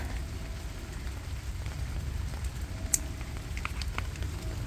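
Rain falling steadily over a small vegetable garden in France, a soft continuous patter with occasional sharper drops striking nearby surfaces, no talking.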